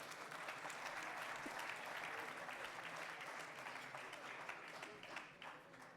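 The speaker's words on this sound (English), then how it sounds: "Please give them a very big round of applause." A large audience at the closing ceremony of the 6th Global WOPs Congress applauds in a continuous, even roar of clapping, heard from a distance and fairly quiet, tapering slightly at the end.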